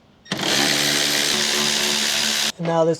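Power tool removing bolts from a BMW X1, a loud close whirring burst lasting about two seconds, then a short second spin after a brief pause, with a few spoken words at the start.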